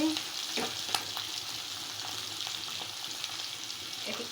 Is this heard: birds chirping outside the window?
no